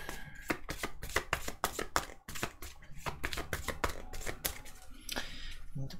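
Tarot cards riffle and snap in quick, crisp bursts as they are shuffled close by, with brief pauses between runs and no talking.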